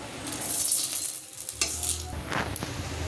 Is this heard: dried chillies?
yes